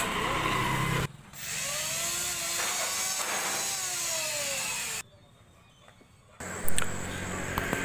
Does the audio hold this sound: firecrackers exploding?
no